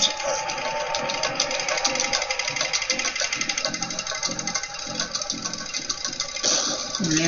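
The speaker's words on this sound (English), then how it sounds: "You can see the machine is stretching the steel bar as the pressure increases." Tensile testing machine stretching a steel bar under rising load, a steady mechanical whir overlaid with rapid regular clicking pulses and a constant hum, close and fairly loud, with no one speaking.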